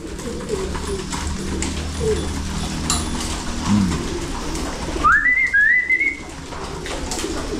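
Pigeons cooing in a loft housing breeder birds, soft low coos close by over a constant background hum, followed by a brighter rising call near the end.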